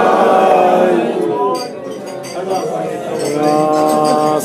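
Glasses clink together during a celebratory toast at a 20th anniversary party for an aikido club, sounding as several light chimes under a crowd of voices talking and cheering.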